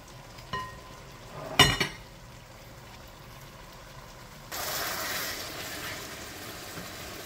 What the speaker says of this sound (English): I'm going to allow the onions to fry well